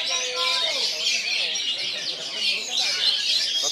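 A kacer, or oriental magpie-robin, sings continuously at a bird singing competition, rapid high twittering and trilled phrases layered over steady crowd chatter and a voice calling over the event.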